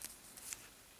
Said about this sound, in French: On va couper le fil.